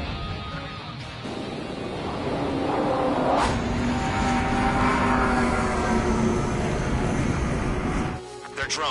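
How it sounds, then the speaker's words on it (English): A jet aircraft in the Ace Combat 7 flight game approaches at high speed, its engine roar swelling into a loud, sustained rumbling whoosh that holds for several seconds before cutting off abruptly near the end. "Aircraft approaching at high speed."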